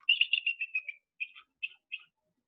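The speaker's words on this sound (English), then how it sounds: "Just a couple little shrill chirps" Shrill chirps of a bald eagle: a rapid run of high, thin notes, then three spaced single chirps, fairly clear with no other sounds.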